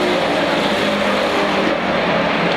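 Street stock race cars at Seekonk Speedway roar loudly out of a corner, a dense, continuous engine blare from several cars at once.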